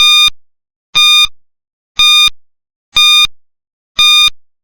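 Five sharp electronic timer beeps sound at an even one-second rhythm, each a short bright tone with silence in between, loud and close with no voices.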